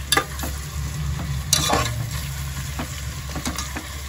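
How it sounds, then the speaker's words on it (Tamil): Onions and green chillies sizzle steadily in a pan for Kongu-style mutton white biryani, with scraping stirs and a few sharper clinks of the spoon against the pan over a constant low hiss. "இந்த வெங்காயம் நல்லா வதங்கட்டும்"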